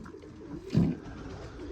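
Young, recently hatched pigeons in a pigeon loft, with one brief low cooing call rising out of a quiet, steady background hum.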